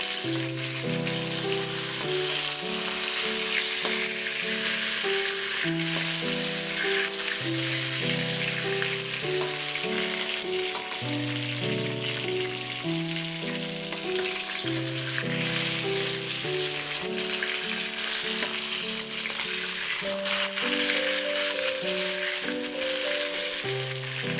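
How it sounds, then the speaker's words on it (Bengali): Fish sizzles in oil in a wok with a continuous, even frying hiss, joined by a steady melodic music bed for the whole stretch. "এখনও কড়াই মাছ ভাজা হচ্ছে"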